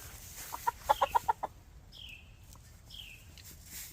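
A young gamefowl stag gives a quick run of soft, close clucks, then falls quiet over faint background noise while a couple of higher chirping sounds follow.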